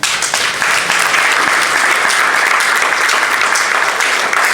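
Children in a hall in Kinshasa, at the launch of a charitable foundation, break into loud, continuous applause, a steady dense clapping sustained without pause.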